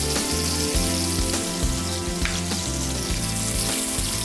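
Sliced onion frying over high heat in a pan, a loud, dense continuous sizzle and crackle filling the sound, with a low steady hum underneath and no voices.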